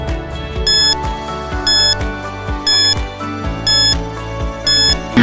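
A countdown timer sound effect for a quiz plays alone: a steady ticking beat with bright, beeping chime tones repeating roughly once a second over a low pulsing bass, loud and close.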